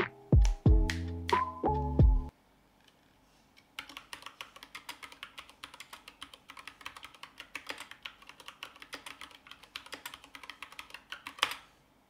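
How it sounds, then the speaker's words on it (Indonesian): Clicky keystrokes from a Keychron K6 aluminium-frame hot-swappable mechanical keyboard fitted with Gateron Bronze switches, arriving as a steady, close run of typing after a brief burst of tonal sound at the start. "Keyboard ini pakai gateran bronze switch yang bunyinya tuh kayak gini."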